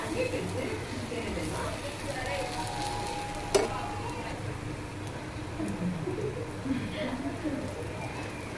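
Gram flour batter sizzles on a hot pan for an evening snack, a soft, even frying hiss with a single sharp tap partway through, while a voice talks over it.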